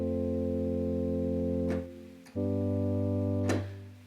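A Roland Juno-6 synth patch with a slow-ish attack, full sustain and moderate release holds sustained chords. A steady tone changes once and briefly fades, and short noisy transients sit between the held notes.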